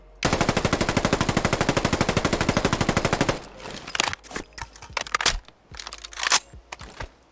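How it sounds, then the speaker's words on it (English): Full reload animation of a QBZ-191 rifle in a Fallout 4 mod: a long rapid burst of automatic gunfire first, then a series of sharp separate mechanical clacks and clicks from the magazine and bolt handling. "And then the alternate full reload."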